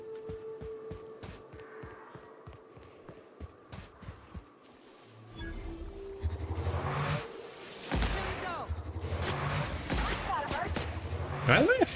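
Plasma carbine fire in The Outer Worlds, with bursts of energy-weapon shots building from the midpoint into loud, dense sustained volleys over game music and ambient sound.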